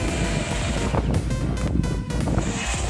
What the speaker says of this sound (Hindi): ऊपर से आ रहा है तूफान, बहुत तेज हवा चल रही है